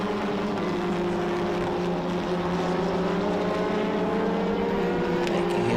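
A Hyundai i30 TCR race car at the Balaton circuit, its engine a loud, continuous droning whine with a steady pitch that rises slightly as it pushes on, no commentary over it.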